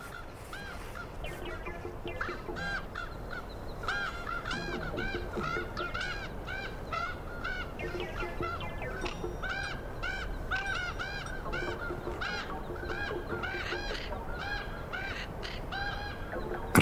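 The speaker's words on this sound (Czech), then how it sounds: "Krkavci se své kořisti nejdříve vzdávají, ale pak stropí takový povyk" A dense flock of ravens honks and squawks continuously, loud harsh calls overlapping throughout with no pauses.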